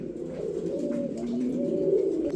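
Soft, low cooing of pigeons at a pigeon market, continuous and fairly close, with a gentle murmuring rhythm and no speech.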